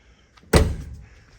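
Car trunk popping open under a vacuum-operated central door lock system, a single loud thunk that then decays over about a second, with no talk.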